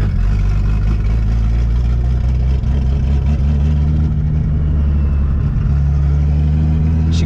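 A turbocharged Chevrolet Opala car engine pulling hard after a gear change, a loud, close, continuous roaring drone that holds strong for several seconds without talk.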